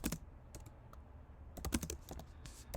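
Keys clatter on a computer keyboard as a short title is typed, a quick uneven run of close, light clicks in small bursts.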